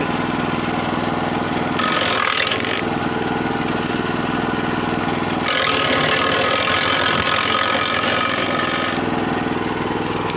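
An electric branch shredder runs loudly and steadily up close, its motor whine broken by two stretches of harsher grinding and crunching as tree branches are fed in and chipped.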